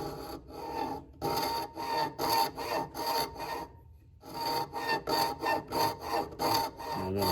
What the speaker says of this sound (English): Let's see if I can start this with a pretty thin blade to get a kerf going